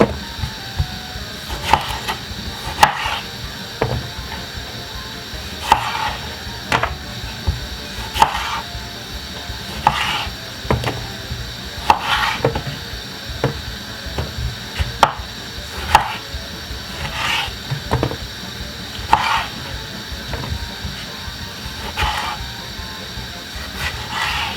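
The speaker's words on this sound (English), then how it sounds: "Then get the spring onion and simply cut them into small pieces." Knife chopping spring onion and tomato on a board for a West Indian tomato hot pepper sauce, a steady run of close, crisp cuts repeating about every second with no voices.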